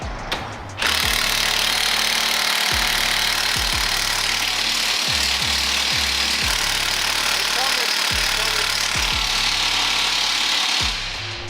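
A Bosch power tool works on a car brake caliper, running loudly and close with a harsh, rattling hammering that surges and pauses in irregular bursts for several seconds.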